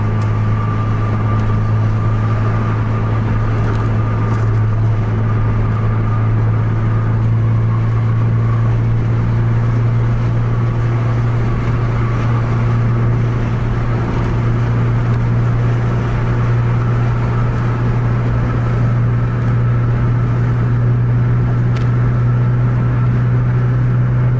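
A Scania truck engine pulls in tenth gear at around 110 km/h, a loud, steady, close droning hum that holds without a break throughout.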